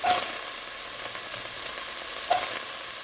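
Onion hitting a hot pan after lamb has been browned for a vindaloo curry stew, giving a loud sizzle at the start and another burst near the end over steady frying hiss.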